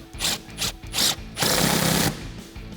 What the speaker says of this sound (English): Then we can tighten that up with an 11mm socket.